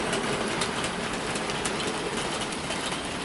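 A Hornby SR Drummond 700 model locomotive running along track while pulling a train, a steady mechanical whir with faint rhythmic clicking at moderate volume and no talking.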